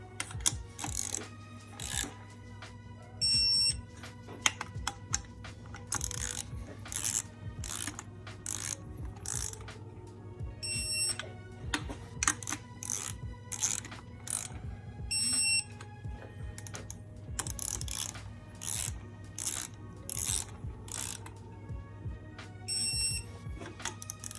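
Torque wrench tightening the engine cradle bolts on a Mitsubishi Lancer Evolution X, a steady run of close, loud ratcheting clicks and metallic mechanism noise in repeated bursts over a low constant hum, with no talking.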